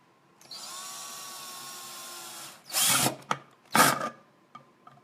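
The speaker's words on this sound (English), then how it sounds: "let me finish with the drill" A power drill whirs steadily for about two seconds while a glass-jar upcycling project is worked on, then cuts off, followed by a few sharp nearby knocks and clatters; no one speaks.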